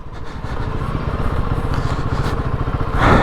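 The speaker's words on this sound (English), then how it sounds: "Engine braking, quite a bit of it actually." A Royal Enfield Himalayan 450 motorcycle engine is braking down a steep off-road hill. It holds a steady, rumbling, throbbing drone that grows a little louder near the end.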